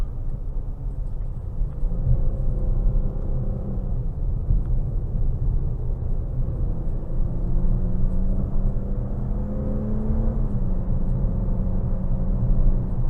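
A 2022 Dodge Challenger GT Blacktop engine in sport mode holds a steady, loud rumble inside the cabin while paddle shifts quickly move the revs, with pitch steps rising and dropping several times over the run.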